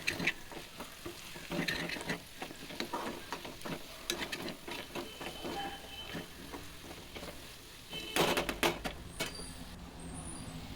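A spoon scrapes and clatters as potato fry (aloo fry) is stirred in a pan, irregular close knocks over a soft sizzle, with a louder burst of scraping near the end.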